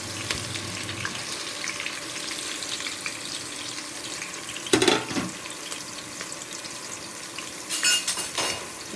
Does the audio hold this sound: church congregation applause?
no